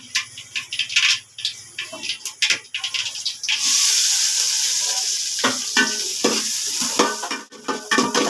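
Onions, green chillies and curry leaves fry in oil in a pan, a loud steady sizzle broken by repeated stirring scrapes and clatter of a spoon against the pan, close up.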